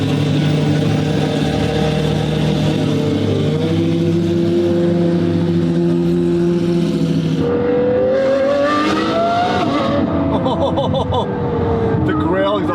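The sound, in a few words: car engine and exhaust revving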